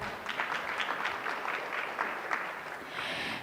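Sustained audience applause at an education data and AI forum, a steady wash of many hands clapping, fairly close and even in loudness throughout.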